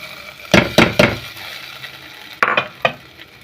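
Browned coconut being stirred into pumpkin and bean erissery in a pan, with a quick burst of three sharp spoon knocks and scrapes, a quieter pause, then three more close knocks over a faint sizzle.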